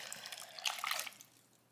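Sauce trickles into a bottle in a short, close liquid pour that swells to a splashy peak and then tapers off, with no talking.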